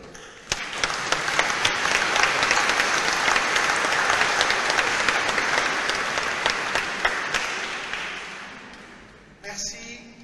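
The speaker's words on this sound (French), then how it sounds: "Vous pouvez les applaudir." Loud, sustained applause from a large church congregation fills the space for several seconds during a Mass, then fades, and a voice begins speaking.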